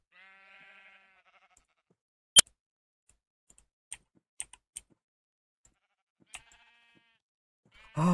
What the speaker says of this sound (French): Merci les moutons!